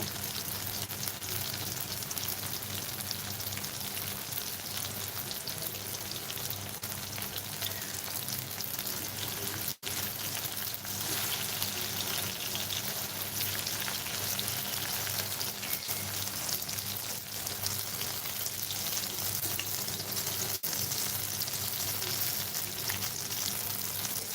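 Steady, even sizzle of eggplant and chicken pieces frying in hot oil, loud and close without a break, with a couple of faint clicks and no voices.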